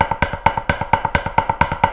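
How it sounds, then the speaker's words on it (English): Snare drum rolls built from diddles whose second stroke sounds weak, played in a quick steady stream of paired hits, close and fairly quiet with no talking. "So instead of playing rolls that sound like this,"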